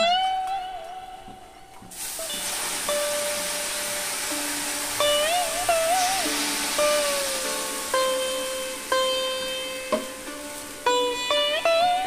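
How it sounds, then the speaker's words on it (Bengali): Water poured into shama rice frying in a pot sets off a sudden loud hiss and sizzle that holds steady, with faint tonal music playing underneath. "এবার আমি এতে জল দিয়ে দেব।"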